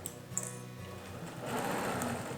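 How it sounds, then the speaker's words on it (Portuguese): Sewing machine running a safety seam right along the edge of a patchwork fabric bag, a steady close motor whir with needle rattle that speeds up and grows louder partway through, no talking. "primeiro, uma costura de segurança, então. Bem na beiradinha."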